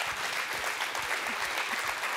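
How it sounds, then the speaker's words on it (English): An event audience applauds at the close of an evening, with dense, even clapping that holds steady and fairly loud for the whole short stretch. "Round of applause to all of you."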